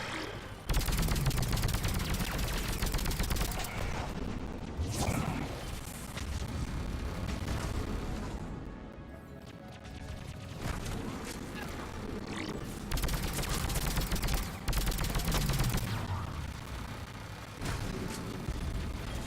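Firefight in the sci-fi video game Mass Effect 3, with rapid weapon fire and bursts of automatic shots, loud and near, continuing steadily with intermittent heavier impacts and brief lulls.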